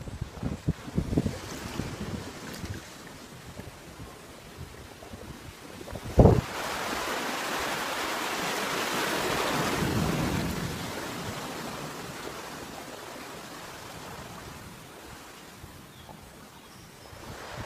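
Storm winds roar and surf crashes on a quiet Brazilian beach during a big storm, with a sharp gust or thud around the middle and steady blustery wind noise buffeting the microphone throughout.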